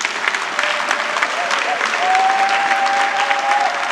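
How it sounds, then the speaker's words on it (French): A church congregation at a Belgian convention of message churches applauds steadily and loudly, a dense sustained clapping with crowd noise throughout and a faint tonal whistle-like sound rising near the end. "Je voudrais d'abord que nous puissions acclamer le Seigneur Jésus-Christ."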